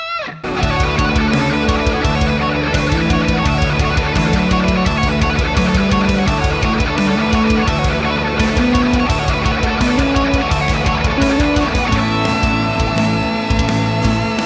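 An electric guitar plays a melodic major-key lead solo at full speed, a continuous run of clear sustained notes, loud and close with no talking.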